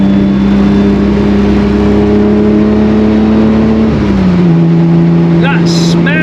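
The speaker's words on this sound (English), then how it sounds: "listen to that straight six" A straight-six car engine hums steadily at a held speed, then its tone drops as revs fall and settles lower, loud and close, with a voice breaking in briefly near the end.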